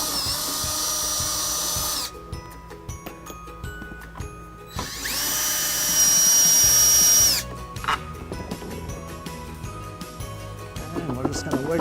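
A power driver with a 10mm socket spins out taillight screws on a 2009 Jeep Liberty, two loud sustained whirring bursts separated by clicks and rattling of parts, close up.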